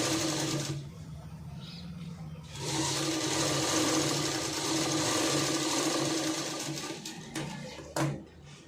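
A sewing machine stitches the front part of a blouse in close, stop-start runs: a short burst, a pause, then a long steady whir, and finally a brief last spurt.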